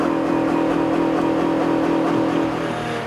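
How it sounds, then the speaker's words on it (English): A 2014 Acura RLX engine held hard against its rev limiter, a loud, steady high-rpm drone with a slight pulsing stutter as the computer caps the revs, easing off a little near the end. "That is the computer not allowing it to rev any higher than that"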